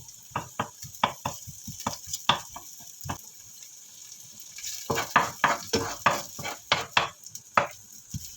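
Chicken and pork ribs are sautéed in a pot for soup, with sharp sizzling bursts and stirring scrapes arriving in irregular clusters and a quieter pause in between.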